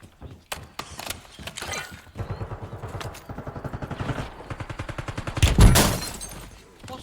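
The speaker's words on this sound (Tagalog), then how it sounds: "May bumabaril pa dyan." Rapid bursts of automatic gunfire in a shooting video game, a fast rattling volley that builds to a loud blast near the end.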